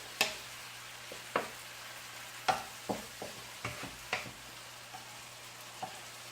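A utensil stirs shrimp sautéing in a pan with a string of light clicks and scrapes against a faint sizzle, close and fairly quiet.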